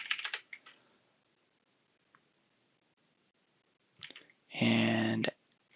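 A few quick clicks on a computer keyboard come at the start, then near silence, then more clicks followed by a loud steady burst of sound near the end.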